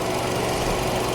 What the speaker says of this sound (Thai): นี่คือเสียงเครื่องยนต์นะ